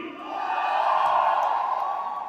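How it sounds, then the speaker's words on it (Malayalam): A large crowd at a Dubai trailer launch event roars and cheers continuously, a dense sustained wash of voices and claps at close range. "അത് കണ്ട ആൾക്കാരുടെ ഒരു വലിയ കൈയടി"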